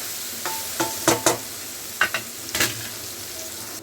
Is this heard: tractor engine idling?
no